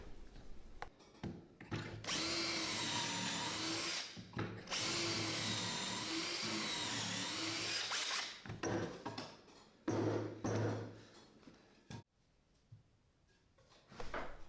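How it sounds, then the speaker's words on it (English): A power drill drives pocket hole screws into workbench wood, whirring in long sustained bursts, stopping and starting several times, with short clicks and knocks between runs. "now I'll just keep drilling some more pocket hole screws to attach everything together"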